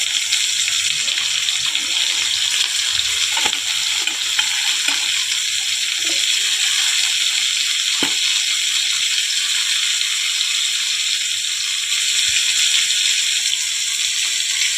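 Steady sizzling of onion, green chilli and tomato frying in a pan, a continuous hiss with a few faint clinks.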